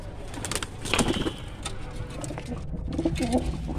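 A female pigeon at a loft coos softly in low repeated murmurs, close but faint, amid a background of other birds and someone talking.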